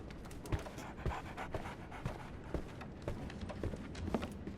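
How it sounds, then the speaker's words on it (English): Dog panting in the Sherlock Holmes: The Awakened game, a steady run of quick breathy huffs up close, with soft thudding beats underneath and no voices. "So, Barnes has a dog now."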